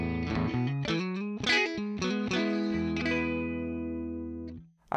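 Clean electric guitar chords through a Yamaha THR10C practice amp strummed in a quick rhythmic run, then one chord left ringing until it fades, plain tone with no reverb or effects.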